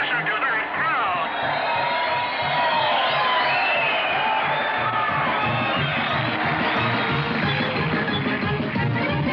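A large cartoon crowd cheers loudly and steadily for the winner at the finish line of a race, whoops and shouts blending together under an announcer's voice.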